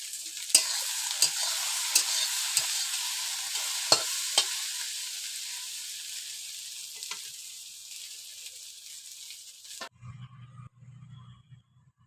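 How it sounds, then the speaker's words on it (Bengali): Onions fry in a pan over low heat, giving a steady bright sizzle broken by scraping stirring clicks. The sizzle cuts off near the end, leaving a faint low hum. "পেঁয়াজটা লাল লাল করে ভাজা হয়ে গিয়েছে।"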